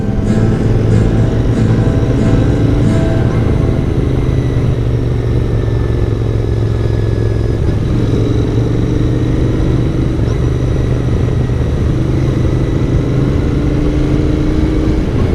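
A Royal Enfield Interceptor 650 engine comes off the gas in a lower gear, holding a loud, steady, close rumble with wind noise throughout.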